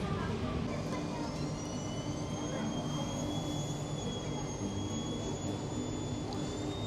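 Scoot Boeing 787 Dreamliner jet engines at an airport run as a steady, loud broadband roar with a high whine, continuous throughout.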